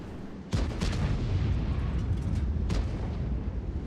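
A tank gun fires in World of Tanks: one sudden, heavy boom is followed by a rumbling roar that lingers, with a fainter crack in the middle of the rumble.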